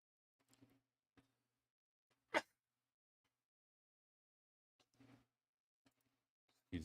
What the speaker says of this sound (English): Excuse me, I had a sneeze.